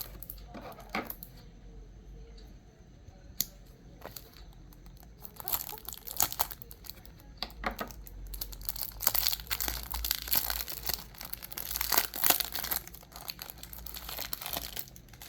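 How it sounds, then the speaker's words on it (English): Cardboard packaging of a Tomica Lamborghini Countach toy car crinkles and tears in close, intermittent bursts, growing busier and louder midway through with scattered sharp rustles and crunches. "So let's unbox this and see how it looks."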